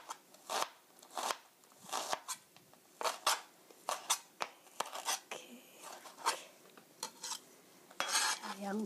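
A knife chops onion thinly on a cutting board in quick, crisp taps, close and fairly quiet, with short pauses between bursts of strokes.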